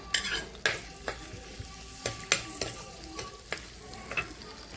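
Steady sizzling of garlic and ginger frying in hot oil for a fish curry, with occasional sharp clinks and scrapes of a utensil stirring the pan.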